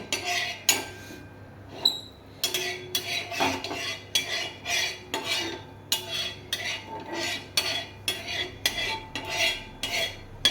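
A metal utensil scrapes and taps repeatedly around a pan on a gas stove, spreading white oil, in rhythmic close strokes over a low steady hum.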